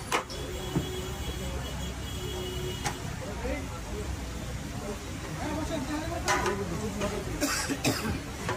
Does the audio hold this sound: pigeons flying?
no